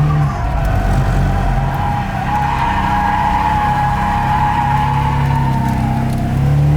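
A loud, close BMW E30 drift car engine holds high revs during a clutch kick while tires squeal in a sustained skid, continuous for several seconds.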